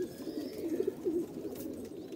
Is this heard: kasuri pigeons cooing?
yes